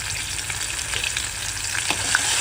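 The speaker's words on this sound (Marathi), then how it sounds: "मसाला चांगला परतला गेला हिरवा मसाला" Ground green masala paste with cumin and asafoetida sizzles and fries in a hot pan as part of a vegetable dish, a steady crackling hiss with occasional pops and stirring, close and continuous with no talking.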